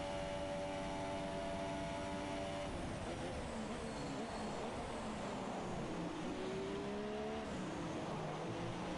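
A race car engine in a racing video game drones through corners on the Mexico round, with steady tonal revving that rises and falls with light throttle inputs and a gear change partway through, heard alone at moderate level.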